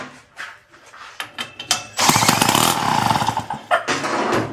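The small engine on a propeller-powered kids' go-kart sputters with a few uneven pops, then catches and roars loudly for about a second before settling into rough, bursty running.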